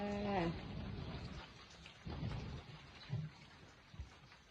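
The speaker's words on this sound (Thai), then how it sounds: "ฝนตกเช้านี้สดชื่นเลยค่ะทุกคน" Steady morning rain patters over a low rumble, with a few soft deeper thuds of distant thunder rolling through; a brief tonal sound opens it.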